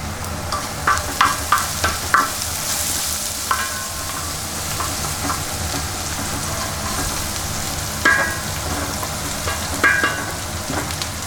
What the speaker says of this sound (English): So nicely sauteed now.